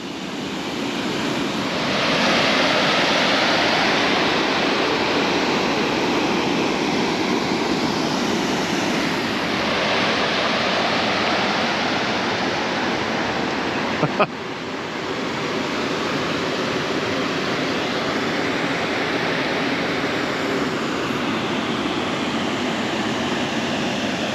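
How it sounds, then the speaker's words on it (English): Water rushes over small weirs in Launceston Gorge, heard from a suspension bridge above as a steady, loud broadband roar that fills the whole stretch with no voices. "A couple little weirs down there."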